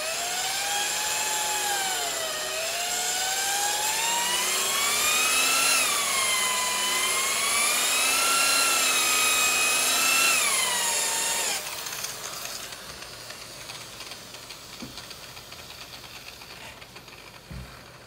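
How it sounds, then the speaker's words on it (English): A power buffer polishes 2K clear coat over Krylon paint on a speaker enclosure, its motor whining steadily with the pitch rising and falling as the trigger is feathered, then cutting out to a quieter, faint tail. "Keep your buffer moving."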